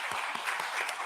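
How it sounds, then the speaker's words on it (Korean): Brief burst of congregation applause during a Sunday morning church service, many hands clapping together in a dense, even patter. "잠깐 박수하겠습니다."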